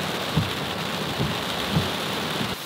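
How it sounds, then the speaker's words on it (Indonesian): Heavy rain pours steadily at the Gunung Kawi mountain base camp in Indonesia, a dense continuous hiss with a few dull low thumps rising briefly above it. "Hujannya makin deras."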